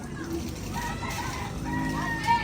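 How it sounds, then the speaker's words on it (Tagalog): Chickens cluck and murmur close by inside a hut-style coop over a steady, noisy background hum, with a louder squawk near the end. "Yan po ay puro manok ang nakatira."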